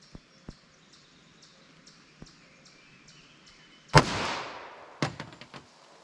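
A Winchester Ranger T-Series .45 ACP round fires from a 5.3 inch longslide Glock: faint clicks lead up to one sharp, loud blast with a ringing decay, then a second crack about a second later, with no talk.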